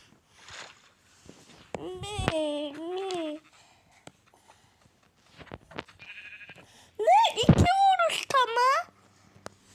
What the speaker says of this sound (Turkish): Aa koyun.